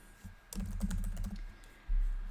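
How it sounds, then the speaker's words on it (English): A name typed on a computer keyboard, heard as a quick close burst of soft key clicks with a short pause and then a heavier final keystroke. "I'm just going to open up a text box, and I'm going to type in my name"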